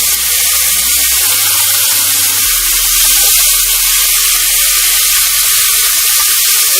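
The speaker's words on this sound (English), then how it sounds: "Okay, so now we're adding our beef in, our olive oil." Beef searing in hot olive oil in a skillet, a loud continuous hiss and sizzle that stays dense and steady from start to finish, close up.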